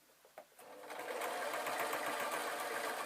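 Sewing machine stitching the face of a fabric bunny puppet, starting with a few soft clicks then settling into a loud, steady, continuous whirring run close by, with no talking.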